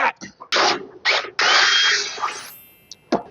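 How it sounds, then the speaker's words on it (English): A power drill whirs in several short bursts, then one longer sustained run, with brief pauses between them, close up, drilling a pivot pin hole on a dump truck while installing a manual tarp kit. "all we have to do is drill a new front hole"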